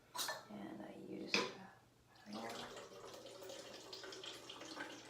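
Distilled water poured from a kitchen container into another container, a steady splashing stream after a couple of clinks, soft and close, with faint speech in the background.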